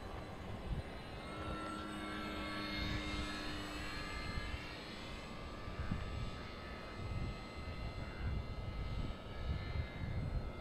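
A radio-controlled model airplane engine drones steadily in flight, a continuous mid-level whine that holds for the whole stretch with slight swells as the plane moves, with no talk over it.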